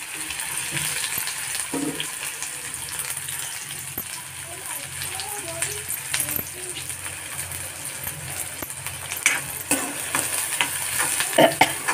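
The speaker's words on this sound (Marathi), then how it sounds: "तेल आपलं गरम झालं. कांदा टाकला आता." A large chopped onion fries in hot oil for sukka zunka, a close, continuous sizzle with stirring clatter and scraping throughout, while a voice speaks faintly in the background.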